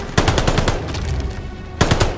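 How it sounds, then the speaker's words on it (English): An MP40 submachine gun fires in the video game Call of Duty: Vanguard. Two rapid, loud bursts of automatic shots are separated by a short pause, with no talking. "Oh, watch this. MP40."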